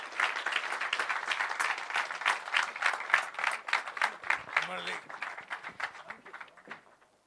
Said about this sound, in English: So Mr. Ram Seshu and Ganesh, can we have a round of applause for them, please?